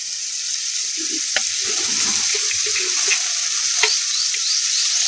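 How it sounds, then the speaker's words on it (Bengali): Masala spice paste for a crab malai curry sizzles steadily in hot oil, with occasional sharp clinks of a spatula against the pan as it is stirred, close and continuous with no talking. "মশলা আমার খুব সুন্দর কষা হয়ে গেছে, মশলা থেকে তেল ছেড়ে দিয়েছে"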